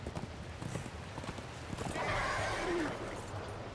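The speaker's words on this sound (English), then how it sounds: "Right, horse." Horse hooves clip-clop steadily in Darksiders 2, with a loud whinnying neigh rising near the middle over the footfalls and game ambience.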